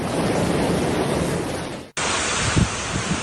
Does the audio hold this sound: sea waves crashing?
yes